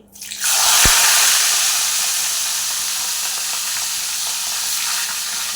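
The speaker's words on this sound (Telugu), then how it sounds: "ఇవన్నీ కూడా బాగా ఫ్రై చేసి ఇవ్వండి" Green chillies frying in a pan, a steady close sizzle of hot oil with a few small crackles and pops, loud and continuous after a brief quiet start.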